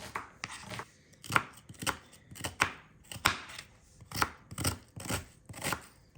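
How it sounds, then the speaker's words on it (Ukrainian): Steady, rhythmic knife chopping of an onion into small cubes on a cutting board, a dozen or so crisp strikes in quick succession, close up. "Все нарізаємо міленьким кубиком."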